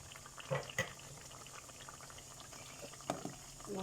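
A pot of chicken and potato curry with satkora simmering on the heat, quiet continuous bubbling broken by occasional louder pops and splutters.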